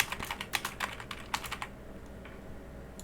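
Quick bursts of keystrokes on a computer keyboard as a short message is typed, close and fairly quiet, then trailing off into near silence.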